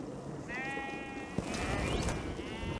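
Lambs bleat from a sheep flock on a migration journey, with one long wavering bleat followed by another rising call, both heard fairly close over faint background noise.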